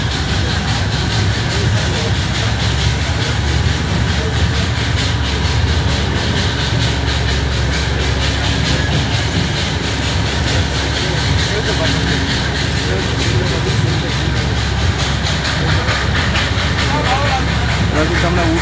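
The Darjeeling toy train's steam engine runs steadily, a loud, continuous rumble and rattle of the moving train that fills the whole stretch, with a person talking over it.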